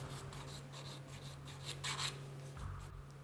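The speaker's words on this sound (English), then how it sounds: "if you keep filing, eventually you'll be back through to metal" A nail file rasps steadily across gel-encapsulated nail art in quick, close strokes, quiet and continuous beneath a low background hum.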